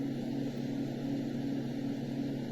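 A white noise machine plays a steady fan sound, a smooth continuous low hum and whoosh at moderate level with no variation and no voices.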